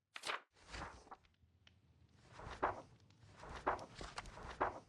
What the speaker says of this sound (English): I think I heard footsteps.